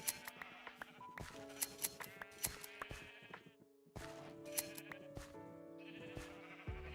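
Repeated bleats from Minecraft sheep on a farm in a game village, several calls in bursts over a steady hum of game music.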